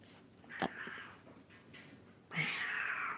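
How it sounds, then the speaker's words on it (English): Cats fight on a house porch: two sharp, drawn-out yowls, the second louder and longer, rise over a quiet background with brief scuffling in between. "cats are fighting on my porch"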